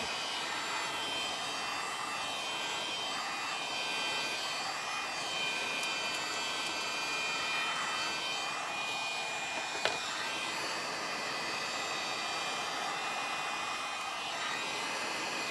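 A heat tool warms bendable wood with a continuous loud whooshing hum of blown hot air, steady throughout with no talking.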